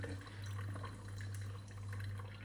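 Hot water poured over ground Indonesia Java Frinsa Manis coffee for brewing: a soft, continuous trickling stream under a low steady hum, quiet and close, lasting a couple of seconds.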